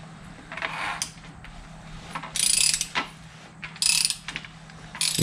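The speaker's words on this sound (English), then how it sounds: "I'm going to take my socket and I'm going to rotate down here on the crank" Socket wrench turning the crankshaft of a Suzuki motorcycle engine under rebuild, spark plugs still in, giving several bursts of close, dry ratchet clicking separated by brief pauses, with faint scraping between strokes.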